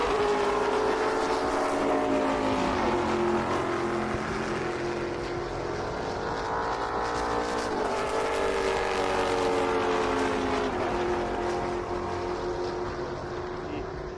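Race cars starting practice laps at a race track heard from a distance: a steady, continuous engine drone that rises and falls slightly in pitch, with no clear voices.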